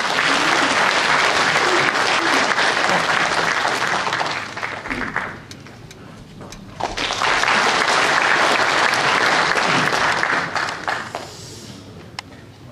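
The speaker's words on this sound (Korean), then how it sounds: "큰 박수로 맞이해 주시기 바랍니다." A party delegates' convention crowd in Cheonan gives loud, dense applause to welcome a party leadership candidate. It dips briefly midway, surges again, then fades out toward the end.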